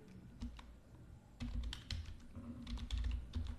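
Keys clatter on a computer keyboard in quick irregular bursts, close and fairly quiet, with no talk over them.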